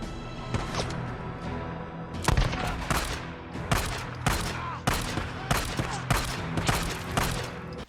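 Rapid bursts of gunfire in a gunfight in the video game Days Gone, loud and close, with overlapping shots and volleys repeating every half second or so throughout.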